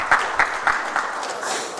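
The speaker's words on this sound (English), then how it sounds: "Come on, give them a round of applause." Brief, sparse clapping from an audience welcoming volunteers, a few distinct claps in a steady rhythm over a soft wash of room noise.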